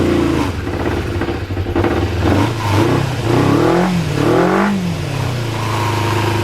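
A cold car engine revs repeatedly while warming up, loud and close, with rising and falling pitch through several throttle blips over a steady idle.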